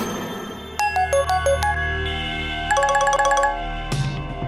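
A phone ringtone plays a bright, repeating electronic melody of quick chiming notes, loud and close with no talking.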